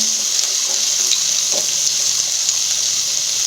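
Watermelon rinds sizzling and frying in hot oil with ginger in a pan, a steady, close, loud hiss with faint stirring clicks and no talk.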